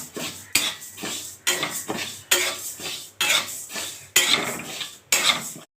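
Mung dal dry-roasted in a hot wok, stirred with a metal spoon: repeated scraping strokes with a rattling grainy rustle, about seven sweeps in a steady rhythm, close and alone.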